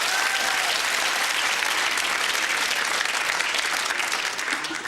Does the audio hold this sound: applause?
yes